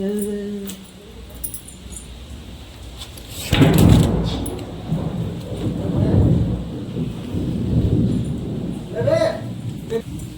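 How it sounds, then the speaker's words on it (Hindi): Rain falls steadily through a storm, with a loud thunder rumble cresting near the middle and further rolling thunder behind it; a voice talks or sings over the weather. "गरज गरज के बरसा बादल हो बादल"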